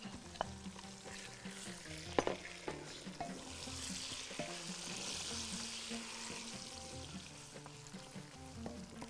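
Meat going into a pan of nearly cooked onions for a Bahraini dish sizzles and fries steadily, with scattered clinks and stirring knocks against the pan, moderately close and with no voices.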